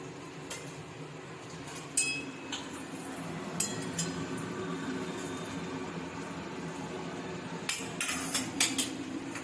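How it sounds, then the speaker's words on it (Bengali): Fried eggplant slices are lifted from a metal pan, with scattered clinks and scrapes of a utensil against the pan over a soft sizzling background, the sharpest taps clustered near the start and end. "বেগুনগুলো ভাজা হয়ে গেছে তুলে নেব"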